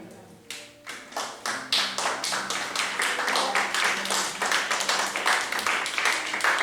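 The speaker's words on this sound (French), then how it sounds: "Est-ce que je peux avoir des acclamations?" Church congregation in rhythmic unison clapping, starting with a few sharp claps and quickly building into a steady, loud, fast beat that continues without a break, with faint voices beneath.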